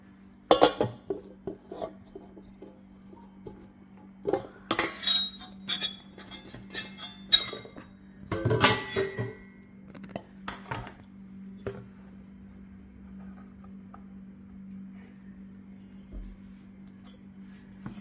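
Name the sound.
mixing ingredients together in a bowl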